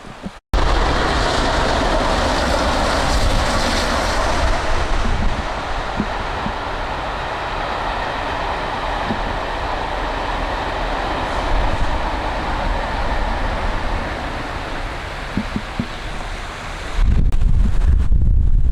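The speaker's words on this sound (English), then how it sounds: "it's going to be late because that's the service train" A service train on the Settle to Carlisle line rumbles past close by, a steady broad roar with wind-like noise that holds for most of the clip; no voices.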